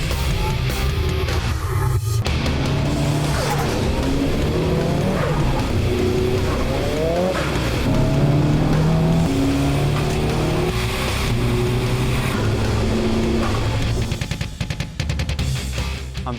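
A Nissan S14 Silvia with an SR20 engine drives hard nearby, its engine droning and revving steadily with tire squeal and skidding, loud and continuous throughout without speech.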